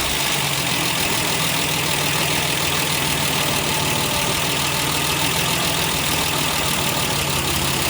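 A 1968 MGC engine with SU HS6 carburetors idles steadily and close by through the whole stretch, a continuous low rumble that rises slightly before settling back, with no voices.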